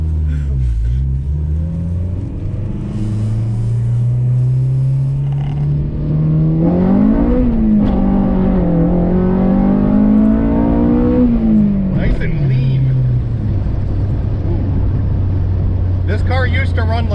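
A Honda Civic EK GSR hatchback engine drones steadily, then revs up hard into VTEC and winds back down. The engine note stays close and loud throughout.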